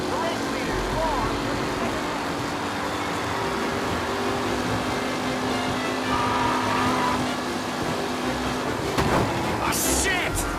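Race cars roaring through a race in the video game Mafia Definitive Edition, a dense, continuous engine drone with steady pitch. A voice speaks over it.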